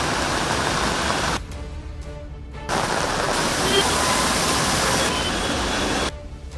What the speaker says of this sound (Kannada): ಬೆಳಗ್ಗೆ ವಿರಾಮ, ಮಧ್ಯಾಹ್ನದ ಬಳಿಕ ಮಳೆಯಾರ್ಭಟ.